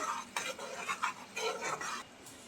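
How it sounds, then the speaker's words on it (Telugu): Pasta tossed with powdered spice mix is stirred in a pan, giving faint soft scraping and shuffling strokes in an uneven rhythm with light knocks of the utensil. "ఫ్రెండ్స్ ఇప్పుడు మనం పాస్తా పొడి వేసుకున్నాం కదా, ఇలా 5 minutes కలుపుకోవాలి"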